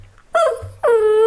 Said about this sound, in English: Oh, she's barking now.